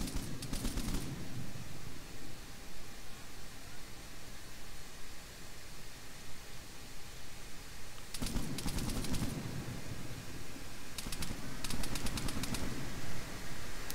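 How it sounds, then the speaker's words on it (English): Rifle fire from the player's weapon in ARMA comes in two or three rapid bursts of sharp shots, separated by stretches of steady background hiss, fairly close. "Mac, are you shooting now, or is that them?"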